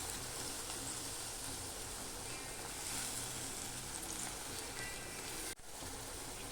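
Onion sautéing in a pan gives a steady, even sizzle and crackle that fills the whole stretch, close and moderately loud, broken by one brief dip near the end, with no talking.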